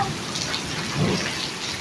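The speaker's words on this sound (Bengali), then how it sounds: "এখন ছাদে যে পানিটা জমানো ছিল সেটাই পড়ছে" Rainwater collected on a rooftop drips and splashes steadily after a village rainstorm, a dense, even patter heard close by with no voices.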